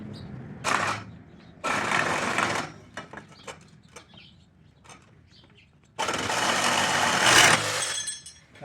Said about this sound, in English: you can use your Sawzall with the soft metal blade or the medium blade